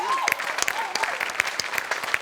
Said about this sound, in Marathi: अभिजित पवारसाठी जोरदार टाळ्या